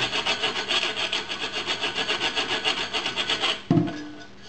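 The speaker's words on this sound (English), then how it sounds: "I'm going to plug the other end with my finger. I'm just going to scrub it" A hookah is scrubbed with beer, giving a rhythmic back-and-forth rubbing rasp, about a dozen strokes close up, then a short knock and a fading clatter near the end.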